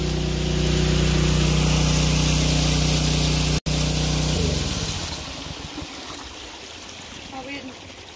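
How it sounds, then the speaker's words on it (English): A gold dredge pump engine runs loud and steady with rushing water, then drops away after a brief cut and the droning fades to a quieter water wash. "You wanna go shut the pump off?"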